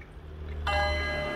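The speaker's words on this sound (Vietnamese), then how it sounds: "Đây thì em sẽ test cái chế độ chuông cho nó này" Chime mode being tested on a newly arrived clock with a stainless steel pendulum, a sudden bright metallic ring that sustains and slowly fades, close and alone.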